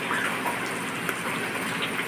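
Light rain falls on a cold, rainy day, a soft steady patter of drops on surfaces that continues evenly throughout.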